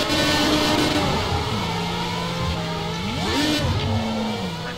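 Race car engine revving in the video game Project Cars, a loud continuous drone whose pitch climbs, dips and climbs again through gear changes, with no talk over it.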